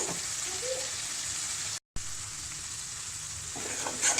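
Tomato puree sizzling in a pan while cooking for aloo gobi matar sabzi, a soft steady frying hiss with a brief dropout partway through and a few faint stirring clinks near the end.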